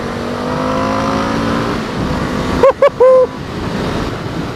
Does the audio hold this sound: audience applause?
no